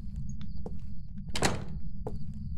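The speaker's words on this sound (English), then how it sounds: "I'm trying to open the door." A door being opened in the horror video game Phasmophobia, heard as a short thump and creak at mid-distance over a steady low hum, with a few faint knocks before and after.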